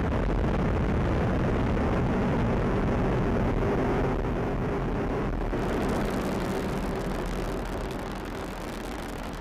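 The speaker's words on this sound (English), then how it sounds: "liftoff of the AEHF-4 mission carried by United Launch Alliance Atlas V rocket for the United States Air Force" A United Launch Alliance Atlas V 551 rocket lifts off carrying the AEHF-4 satellite for the US Air Force, a loud, unbroken roar that stays heavy and steady for several seconds and then eases slightly, with no voices over it.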